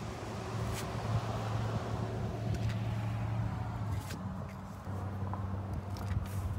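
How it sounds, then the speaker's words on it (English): Steady traffic on a busy road rumbles continuously in the background, with vehicles passing at moderate distance and a low engine drone that drops out briefly before returning. "you can hear by the road traffic, this is a busy place"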